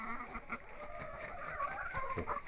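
Several chickens cluck in short, repeated bursts, fairly close, with a steady background murmur and no talking.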